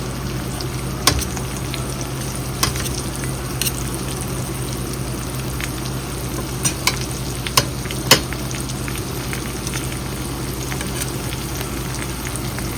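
Shrimp frying in hot oil, a steady close crackling sizzle that runs throughout with occasional sharp pops and spatters, no talk over it.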